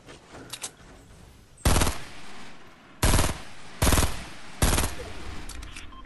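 Video game firefight gunfire: four loud, separate bursts of rapid automatic fire spaced a second or so apart, with fainter scattered shots and quieter background in between.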